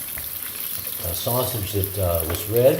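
Sausage and wine bubbling at a boil in a pan for boscaiola pasta, a close, steady sizzle and simmer under a voice talking.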